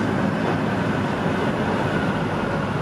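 A DT3 underground train on the U3 line runs at speed, heard from inside as a loud, steady rumble and roar with no pauses.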